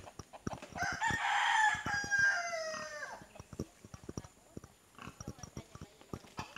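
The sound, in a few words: chickens and rooster crowing on a farm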